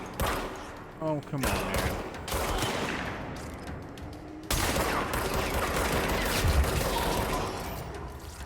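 Video game gunfire cracks in rapid bursts and fusillades under a player's frustrated voice, with a short mechanical click early on and a louder stretch of shooting in the second half.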